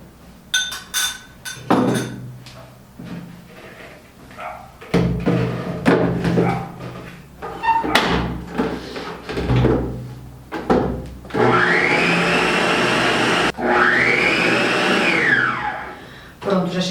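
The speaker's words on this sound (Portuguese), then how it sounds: "Eu vou colocar na batedeira e vou bater até ele dar um ponto" Stand mixer whipping cream for a chocolate mousse, preceded by scattered clatter and bumps, then a loud steady whir with a rising and falling pitch during the last seconds.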